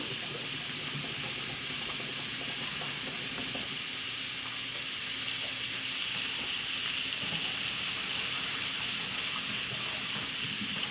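Boiled potatoes for mashing are tipped into a strainer, giving a steady, loud rush of draining water and steam over a hot pot, continuous for around ten seconds with no talk.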